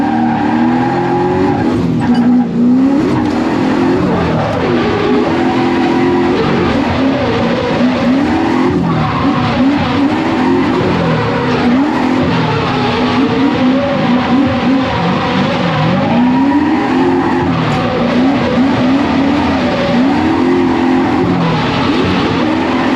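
BMW E36 driven hard on a track, tires squealing repeatedly over a loud, continuous engine roar that rises and falls with the revs, sustained and near, with no voices.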